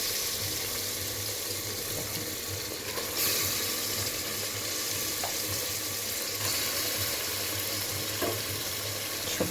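Mutton hitting hot oil with fried onions gives a steady, close sizzle and crackle that runs throughout, with a few faint clinks from a utensil or pan.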